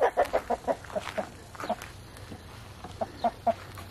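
Several chickens and roosters in a backyard coop run cluck in short, irregular bursts, close and clear over a soft outdoor background hum.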